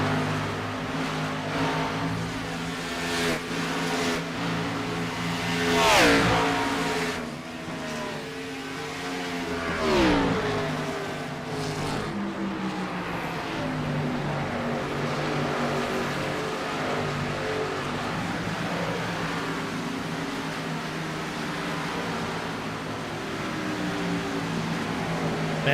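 Stock race cars in a Cup Series race at the Texas track, a steady engine roar with two louder passes rising and falling, continuous and moderately distant throughout.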